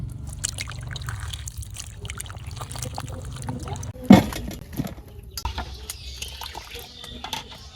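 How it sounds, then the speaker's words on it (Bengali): Water trickles and splashes as chopped bitter gourd is washed, with dribbling pours, a sharp splash midway and lighter drips afterward, close by in a quiet village kitchen. "করলা কুচানো হয়ে গেছে, ধুয়ে ডাইলের মধ্যে দিয়ে দেব।"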